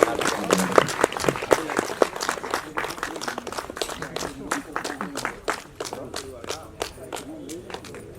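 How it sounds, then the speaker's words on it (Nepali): Audience applause at a family celebration lunch, with dense overlapping claps mixed with crowd noise and some voices, fairly close and sustained, thinning slightly toward the end. "जोरदार ताली"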